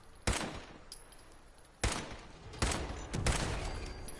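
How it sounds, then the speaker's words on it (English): Explosions and gunfire in the video game Fallout 4, heard as several heavy broadband blasts about a second apart, each with a booming onset and a lingering rumbling tail, with no talk over them. "Ooh, explosions."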